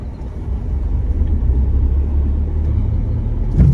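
A car pulls away on an uphill slope as the clutch is eased up with light throttle. A low, steady engine rumble builds slightly, and a brief bump is heard toward the end.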